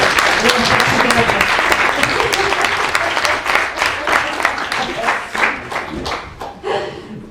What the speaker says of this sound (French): gostaria de pedir uma salva de palmas para a tradução